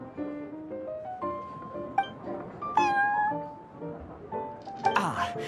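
A cat in Genshin Impact meows in a string of several short, tonal meows, some rising and some falling, with talking in between.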